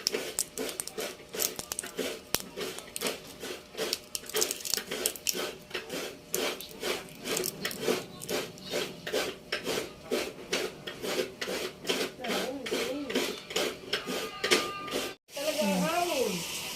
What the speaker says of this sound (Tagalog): ito na po yung ating kinayod na niyog at gagatain na rin po